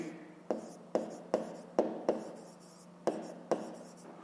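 Pen or pencil strokes marking down a 5th-grade math exercise answer, a series of about eight short, crisp taps and scratches on paper at an irregular rhythm, close and quiet, with no talking.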